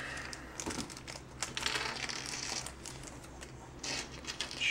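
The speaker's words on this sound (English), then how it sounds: "Rip open the packages." Plastic packaging for robot parts being ripped open, a close, quiet run of crinkling and tearing sounds with small bursts of louder rustle.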